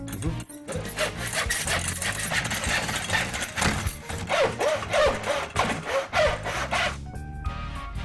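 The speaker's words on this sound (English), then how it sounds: "the miter saw comes in very handy for that" A miter saw cuts wooden frame pieces for a homemade bookshelf unit, giving a loud, steady grinding whine with repeated rough bursts that runs for about seven seconds before dropping off near the end.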